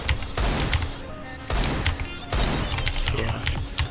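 Rifle sprays in Counter-Strike (CSGO) during aim practice: three separate bursts of rapid gunfire, each a tight rattle of shots, loud and close, with short gaps between them and faint game ambience.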